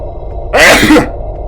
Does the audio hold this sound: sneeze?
yes